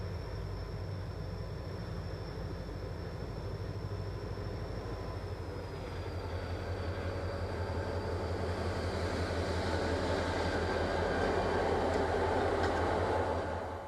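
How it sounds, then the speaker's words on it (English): BNSF westbound Merritt local freight train at Winton Tunnel on Stevens Pass, heading for the lumber mill at Winton: a steady low diesel rumble with continuous rail noise that swells louder toward the end, no voices. "At Winton Tunnel, we see the westbound Merritt local on its way to the lumber plant at Winton."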